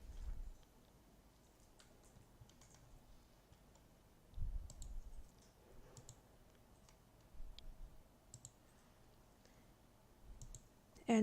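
A computer mouse clicks in sparse, scattered single clicks over faint room noise, with a few soft thumps between them.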